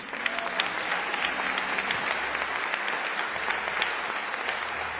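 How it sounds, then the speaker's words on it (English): Mourners at a funeral service in First Baptist Church, Chesterfield, give a steady round of applause, an even, continuous patter of many hands filling the large room with a low background hum beneath it. "please give a round of applause for my co-counsel, a great lawyer attorney, Mark Crutis."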